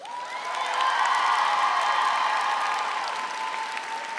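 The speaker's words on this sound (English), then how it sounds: "And applaud the faculty sitting here behind me." Sustained applause and cheering from graduates at a university commencement in a large music hall, a broad roaring wash swelling in and holding steady, with a whistle-like tone riding over the crowd.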